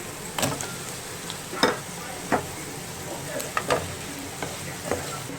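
Drumstick pieces go into a pan of frying onions and ginger-garlic paste, with a soft sizzle beneath several sharp clacks and scrapes of a spoon stirring against the pan, close and moderately loud, no talking.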